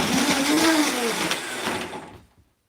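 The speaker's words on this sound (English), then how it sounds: "I'm going to turn on the blender, tamp it down" A blender pulses black cherries in a few short whirring bursts, loud and close, the motor pitch wavering before it cuts off abruptly into silence.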